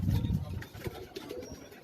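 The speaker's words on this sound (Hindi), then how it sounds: "खतंग कबूतरों का आपको शौक करवा रहे हैं" Khatang pigeons on a rooftop give a low, soft coo near the start, followed by faint chirps and rustling in the open air.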